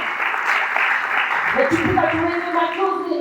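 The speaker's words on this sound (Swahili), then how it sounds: "Makofi kwa Tiko Dela." Audience applause for the performer Tiko Dela at a live performance in Narok, a steady wash of clapping under a speaking voice.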